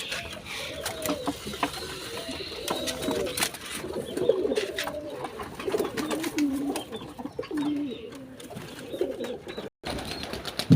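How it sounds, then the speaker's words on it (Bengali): A flock of pigeons at feeding time, cooing in overlapping rolling calls near the listener, mixed with scattered clicks and pecking taps and a brief break near the end. "কবুতর এখন খাবে।"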